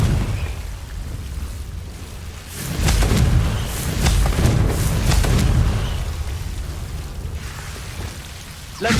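Fiery blasts from the Confringo spell in the game Hogwarts Legacy, a loud roaring burst of crackling explosions lasting several seconds, swelling and then fading.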